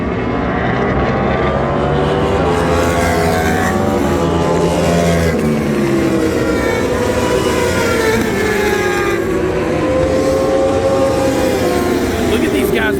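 Racing motorcycles at Barber Motorsports Park scream past in a continuous loud engine roar, with rising and falling pitch sweeps as the bikes pass and overlap.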